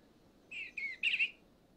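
Bluebirds in Shenandoah give three short, bright chirping calls in quick succession, faint and alone against a quiet background.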